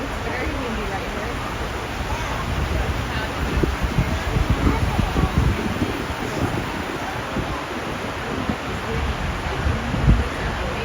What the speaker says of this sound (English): It's very windy right here.